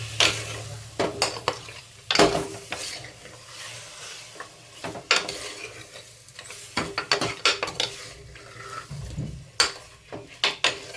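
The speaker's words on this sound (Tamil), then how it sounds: "கல்லுப்பையும் சேர்த்து நல்லா அந்த மாதிரி வதக்கிடலாம் மட்டன்" Mutton sautéed with rock salt, turmeric, onion and tomato in a pan, with repeated scraping stirs and clanks of a utensil against the pan over a soft sizzle.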